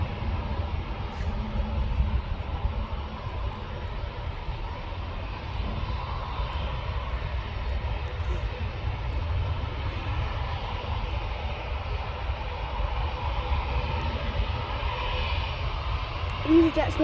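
A Vueling Airbus A320 airliner lands at Manchester Airport, its engines a steady, broad roar with low rumble that holds evenly for the whole stretch, at moderate distance, with a brief louder swell near the end.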